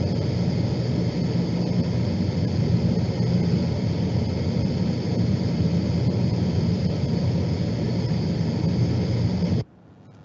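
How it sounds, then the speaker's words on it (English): Steady broadband airflow rush through a self-supporting CLIMAVER insulated HVAC duct in an acoustic test, a constant loud hiss and low rumble lasting about ten seconds before cutting off abruptly, with no voices. "the noise that we are going to perceive in this test is like this"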